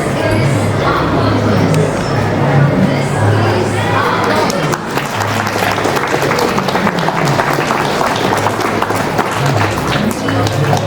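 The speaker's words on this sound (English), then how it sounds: "A huge round of applause for our guests" A large audience of school students claps loudly and continuously at a school celebration, a dense rattle of applause with some crowd noise and a brief dip partway through.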